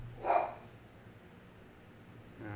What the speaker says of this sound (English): Apparently the dog's having a fit.